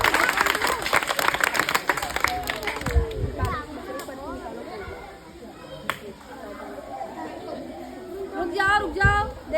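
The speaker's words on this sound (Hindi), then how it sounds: "ताली बजाओ सब लोग" Schoolchildren in a classroom clap for a classmate during a question-and-answer activity: a brief burst of scattered, close clapping mixed with children's excited chatter and voices that continue after the clapping fades.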